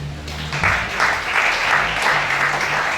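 A church congregation at a 2020 worship service in Gabon breaks into loud, steady applause that swells quickly and carries on throughout.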